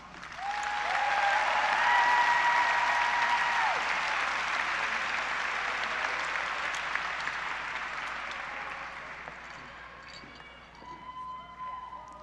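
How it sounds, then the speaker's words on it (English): A large crowd applauds the graduating class at a high school graduation ceremony, a broad sustained wave of clapping and cheering with whistles that swells early and gradually fades, with faint voices beneath. "Let's get one last round of applause for the most amazing students, the class of 2021."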